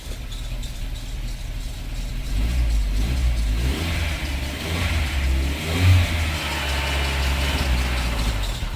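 The engine of a 1984 Dodge Mini Ram, a one-owner truck parked for 25 years, idles with a steady, close, low rumble that swells a little partway through and runs without any voices.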